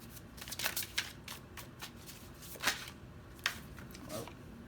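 Tarot cards being shuffled during a pick-a-card reading: soft, close riffling and flicking bursts, several quick ruffles with brief pauses, quiet and alone without talk.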